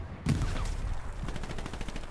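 Bren light machine gun fired in a WWII game set at El Alamein, heard as a sudden loud onset followed by a rapid run of close, sharp repeated shots with game ambience behind.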